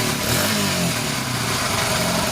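A Honda XL100S motorcycle engine running with its genuine exhaust, a loud, close, steady throbbing idle that holds its pitch through the whole short stretch with no talk.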